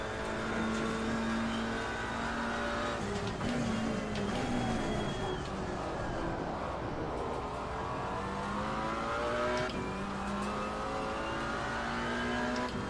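BMW GT4 race car engine in Assetto Corsa Competizione at Kyalami, a steady, close-up drone rising and falling through gear changes, with rising revs and shifts, alone without talk.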